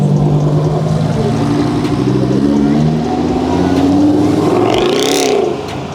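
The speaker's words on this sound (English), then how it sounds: "Listen to the naturally aspirated V8." A naturally aspirated V8 Mercedes C63 AMG passes at a car meet, a loud, steady engine drone that swells and rises in pitch as it goes by, with a crowd murmuring faintly underneath.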